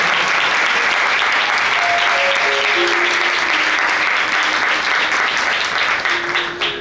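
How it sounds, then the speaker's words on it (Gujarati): Loud, sustained applause from the gathering at a satsang sabha in Bhachau, a thick wash of many hands clapping continuously, with faint tonal sounds drifting over it before it tapers at the close. "એકવાર જોરદાર તાળીઓથી."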